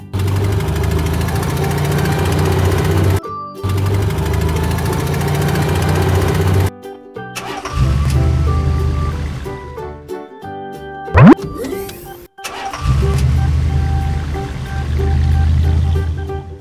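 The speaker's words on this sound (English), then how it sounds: "classic car." Toy-style classic car engine sound, a steady low rumbling hum in two long stretches broken by short gaps, then a few clunks and a sharp knock before the rumble resumes, loud and close with no talk.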